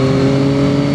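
A Yamaha XSR 900 motorcycle climbs uphill on a twisty road, its engine droning loud and steady with a strong, even mid-pitched note that never lets up.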